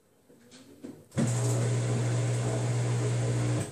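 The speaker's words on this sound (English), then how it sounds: "Can you hear the grinding noise in the back, please?" A Samsung washer running with no load, its drum giving a loud, steady grinding hum from the back that starts abruptly after a second of quieter clicks and holds constant, close to the machine.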